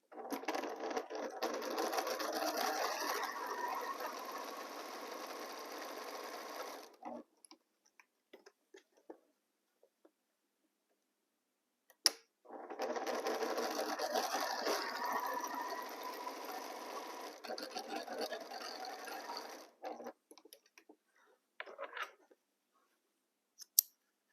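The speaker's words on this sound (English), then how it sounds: "So I start sewing here, join my 2 pieces" A sewing machine stitches two fabric pieces together for a Jacob's Ladder quilt in two long bursts of steady whirring, separated by quiet stretches with scattered small clicks and taps nearby.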